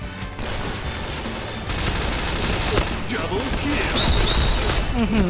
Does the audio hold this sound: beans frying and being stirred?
no